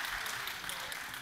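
Brief burst of dense audience applause and clapping at a bluegrass concert in Wilmington, Delaware, heard faint and steady throughout.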